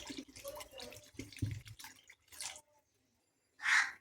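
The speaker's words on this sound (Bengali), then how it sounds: "জল ঢেলে দেবো।" Water splashes briefly into a pot of simmering curry made with prawns, taro and spinach, a short close pour near the end after quieter kitchen clatter and dripping.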